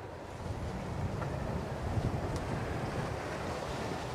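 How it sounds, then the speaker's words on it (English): Wind blusters continuously against the microphone in a garden, a low rumbling roar that swells slightly and never lets up. "Boy, it turned out to be windy today. I didn't expect wind."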